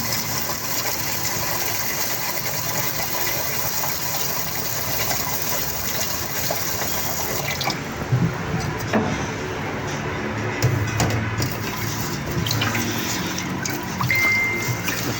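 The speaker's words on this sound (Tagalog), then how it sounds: "hugas na siya ng bigas. Dalawang hugas lang yung gagawin ko dito" Rice being washed in a basin of water, with steady sloshing and splashing that continues through the clip and grows a little busier partway through.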